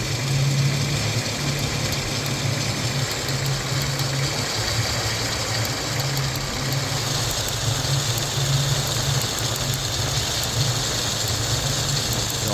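A Jeep Cherokee XJ engine idles steadily up close with a spark plug wire cut and arcing to the engine, giving a constant drone with faint, rapid ticking running through it.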